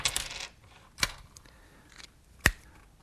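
Coins are picked up and set aside on a table as counters in a maths lesson, giving three sharp metallic clinks spaced about a second apart, close and crisp over a quiet room.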